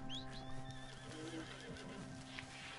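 A horse neighs in the Red Dead Redemption 2 Online video game, a faint, drawn-out whinny with hoof clip-clops over steady background game sound.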